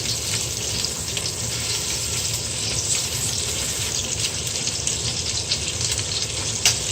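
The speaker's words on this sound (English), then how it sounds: "while I'm browning my pork ribs" Pork ribs browning in a pan, making a steady, close, loud frying sizzle with a dense crackle that runs without a break, with no talking heard.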